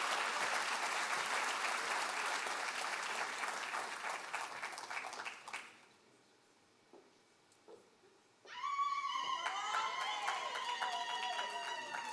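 An audience at the Thabo Mbeki Africa Day Lecture gives a speaker a warm round of applause that fades out, a short quiet with scattered noises follows, then the clapping surges again, loud and dense.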